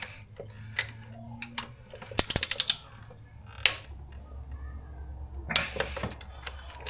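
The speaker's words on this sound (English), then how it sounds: "and then we torque them up" A torque wrench tightens V6 cylinder head bolts on an L67 engine: a quick run of sharp ratcheting clicks, a single loud snap and scattered metallic clicks and taps, close and fairly quiet with no talk.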